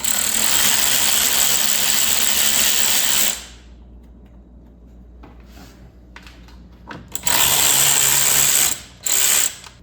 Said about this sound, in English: Next are going to be these two bolts here on the top of the grill. Same size, Torx, so here we go.